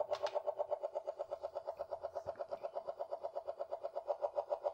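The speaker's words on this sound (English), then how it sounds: "Disengage rotors." Helicopter rotors disengaging in the Amiga 500 game Gunship: a steady, evenly pulsing mechanical whump that repeats rapidly and stays fairly quiet throughout, with no talk.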